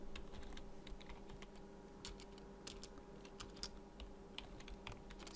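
Typing on a computer keyboard while entering code in Unreal Engine 4, with a steady run of light, uneven key clicks over a constant low hum, no voices.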